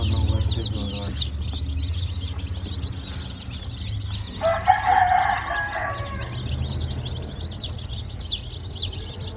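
Chickens cluck in a busy feed-store setting where chicks and other birds are kept. A rooster crows loudly near the middle, over constant high chirping and low background rumble.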